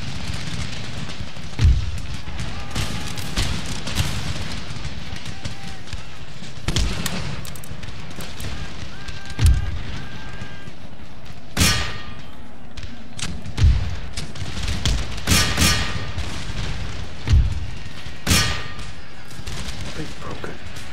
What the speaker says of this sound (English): Of course they're shooting.